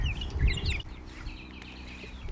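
Meat-bird chickens cluck and chatter close by, short rising calls over a low rustling, busier at first and then settling.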